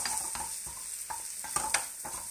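Round risotto rice being stirred and toasted in a hot pan, a steady sizzle broken by repeated scraping strokes of the spoon at an even rhythm, close and fairly quiet.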